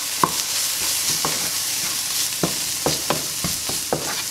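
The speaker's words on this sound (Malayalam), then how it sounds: "ഒന്ന് മിക്സ് ചെയ്യാം." Spices are stirred in a hot pan, giving a soft continuous sizzle broken by several sharp scrapes and taps of a spoon at irregular intervals, close and moderately loud, with no voices.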